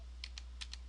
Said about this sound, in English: I'm just typing some words.